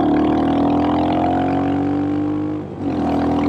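Royal Enfield Mongoose 350 custom motorcycle riding on pavement, a steady loud single-cylinder engine drone with a brief dip in revs near the end before it picks back up.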